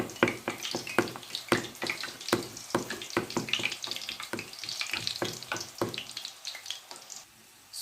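Busy crackling and spattering of chopped overripe plantain frying in hot oil, with repeated sharp pops and bursts, loud and close, settling slightly toward the end.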